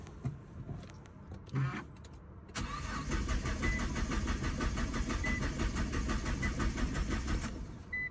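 A Nissan GT-R R35 with a fuel pump fault cranks without firing: a steady, loud starter-motor whirr begins after a short pause and runs unbroken for about five seconds, then cuts off, with some low background noise before it.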